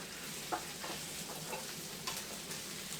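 Caramelized onions cooking on a griddle, a faint steady sizzle with a few soft scraping taps of a spatula stirring them.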